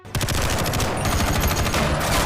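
Sustained rapid automatic gunfire in an action film as a team ambushes an armoured truck convoy carrying plutonium, dense overlapping bursts of shots filling the whole stretch, loud and close with no talk.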